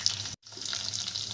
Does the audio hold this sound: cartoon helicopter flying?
no